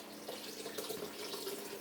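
Alkaline water pours into beans as a faint, continuous splashing trickle, steady throughout.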